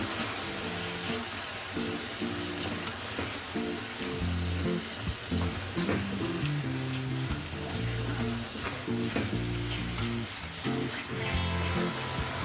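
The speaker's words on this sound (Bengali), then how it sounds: "এবার খুব ভালোভাবে মশলাটাকে কষে নেব।" Masala spices with salt and a splash of water frying in a pan for soybean pulao, giving a steady sizzle with stirring scrapes, while rhythmic background music plays throughout.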